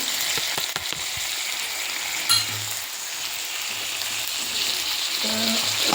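Poppy seeds frying in a little oil for an avarekalu sambar, a close, even sizzling hiss that runs throughout, with a few faint clicks and low hums underneath.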